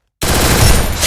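An MP40 submachine gun fires a rapid, loud burst in the video game Free Fire, starting abruptly after a brief silence.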